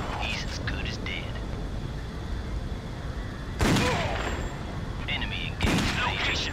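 Gunfire in the real-time strategy game Act of War: two sharp, loud bursts of shooting, the second stronger near the end, over a dense hiss of battle ambience with short voice lines in the game.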